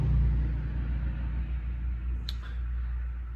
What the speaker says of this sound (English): You see, loud truck.